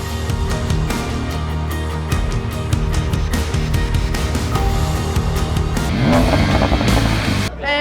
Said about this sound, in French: c'est sur la piste au point 1 qu'on envoie bien sûr ces pneus General Tire en fumée